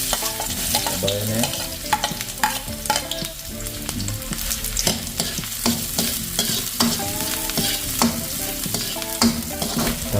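Garlic and onion sauté in hot oil with a loud, steady sizzle and frequent stirring scrapes, while a few quiet spoken words pass in the background.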